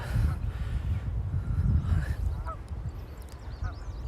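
Several Canada geese honking at a moderate distance over steady wind and background rumble, with a few sharp calls standing out near the end.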